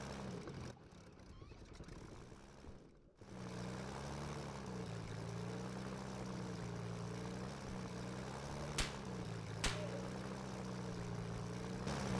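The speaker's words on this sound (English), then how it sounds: "we're still dropping out of planes" A propeller airplane engine in the World War II shooter Easy Red 2 drones steadily with a wavering tone, close and loud throughout, with two brief sharp clicks late on.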